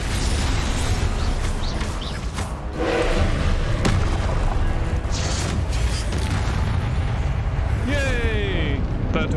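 Confringo blasting spells in the Hogwarts Legacy video game, booming explosive impacts layered over a busy game soundscape with whooshing magical effects, loud and dense throughout.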